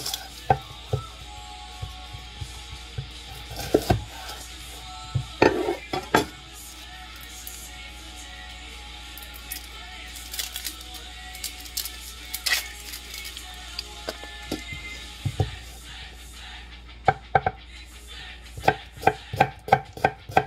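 Knife chopping through an onion on a cutting board by a blindfolded cook, irregular clusters of sharp near taps with pauses between bursts and a faster run of cuts toward the end.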